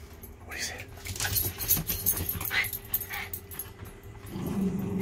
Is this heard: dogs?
yes